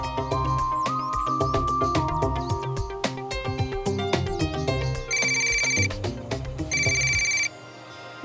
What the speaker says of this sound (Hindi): अब मुझे फोन कर रहा है।